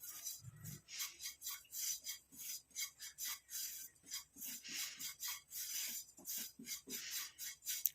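Turmeric powder and mustard seeds dry roasting in a pan, heard as a steady rasping, scraping rhythm of a spatula stirring, with faint crackles, moderately close and without talk.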